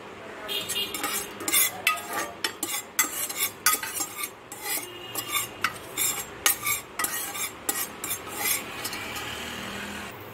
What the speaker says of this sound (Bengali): তারপর তেজপাতা আর কালো জিরে ও সামান্য মেথি এর মধ্যে দেওয়া হয়েছে, দিয়ে একটু নাড়তে হবে।